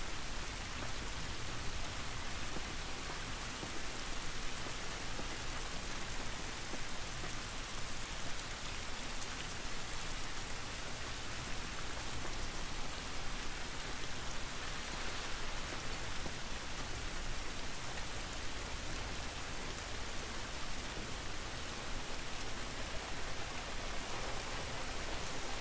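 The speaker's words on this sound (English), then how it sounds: "This rain ain't gonna do us any good." Steady rain in the video game The Last of Us hisses evenly across the whole span, a soft dense patter with no talk and no breaks in its constant wash of noise.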